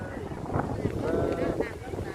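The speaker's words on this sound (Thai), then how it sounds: "ลมแรงมาก" Strong wind blows beside the Mekong River by a rocky midstream outcrop in the dry season, buffeting the microphone with a steady, fairly loud broadband rush that gusts throughout, with faint voice-like tones underneath.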